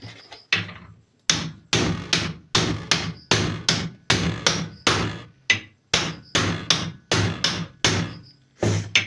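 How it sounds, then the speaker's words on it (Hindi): A hammer strikes a part during sewing machine repair, about fifteen sharp, loud metallic blows in a steady rhythm, each followed by a brief ringing decay. "यहाँ से इसको हम ठोक देते हैं।"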